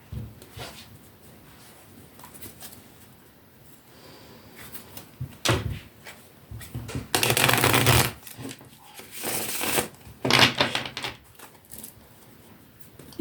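A 1984 tarot deck is handled and shuffled, with two bursts of rapid card riffling separated by softer handling clicks and rustles, close up and without talk.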